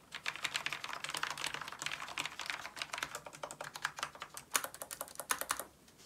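Rapid, steady typing on a Corsair K70 MK.2 Low Profile mechanical keyboard with Rapidfire silver switches, producing dense, light, fairly quiet clacks up close with no voices.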